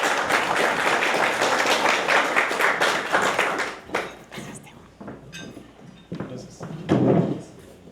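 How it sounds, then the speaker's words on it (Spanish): Warm applause from an audience at a Spanish-language talk on artificial intelligence, dense clapping for about four seconds that thins into scattered claps and a brief voice. "Por favor, ayúdenme a darle un caluroso aplauso."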